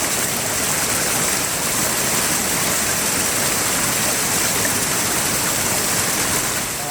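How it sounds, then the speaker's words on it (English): A massive waterfall on a windy river roars as a loud, dense, continuous rush of water, close and steady, with no voices. "I'm just going to photograph this massive waterfall."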